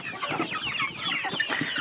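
Free-range village chickens feeding on cheap homemade feed give a busy stream of close clucks and soft overlapping chatter from several birds at once.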